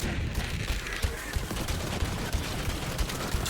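Rapid gunfire from a fire-element Rowan's Call pistol in Borderlands 3, fired at a fire-element heavyweight enemy: a steady stream of close, punchy shots over dense battle noise, with no talking.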